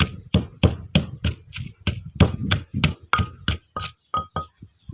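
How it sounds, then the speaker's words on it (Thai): Garlic and black pepper pounded in a mortar with steady, rhythmic thuds, about a dozen sharp close strikes in quick succession, slightly slowing near the end. "ตำกระเทียมพริกไทยใส่ละลายด้วยจ้าจะได้หอมหอม"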